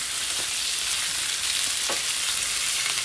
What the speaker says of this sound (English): I just like boiling them first and then frying them